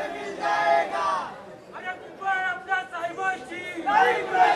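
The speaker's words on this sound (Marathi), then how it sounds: "कशा प्रकारे जल्लोष मातोश्रीवरती सुरू असल्याचं दिसतंय" A crowd of party workers celebrating at Matoshree, heard as a lively mass of voices and cheering chatter at moderate distance, swelling and dipping with no single voice standing out.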